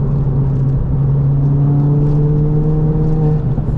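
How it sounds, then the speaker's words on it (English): A 320 bhp stage 3 big-turbo Ford Fiesta ST pulling hard from inside the cabin, a loud, steady engine drone that climbs in pitch as it accelerates; no talking. "You shifted to fourth and you're back on boost already."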